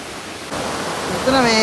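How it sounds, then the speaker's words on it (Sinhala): Knuckles waterfall at Alugallena in Sri Lanka's Knuckles range, swollen by heavy rain, gives a steady broad roaring rush that grows louder. A voice starts speaking over it near the end. "බලන්න නකල්ස් ඇල්ල කොහමද වතුර කියලා."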